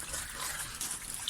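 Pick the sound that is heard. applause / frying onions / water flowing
water flowing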